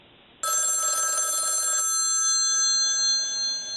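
Telephone ringing: a bright electronic trill starts abruptly, sounds steadily for over a second, then leaves a lingering ringing tone in a quiet room.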